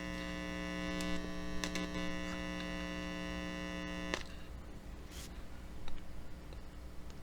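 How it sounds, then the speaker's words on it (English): A capacitor under test gives off a steady electrical mains hum for about four seconds, then it cuts out abruptly, leaving faint background hiss and a few small clicks. "You see the humming noise is much less."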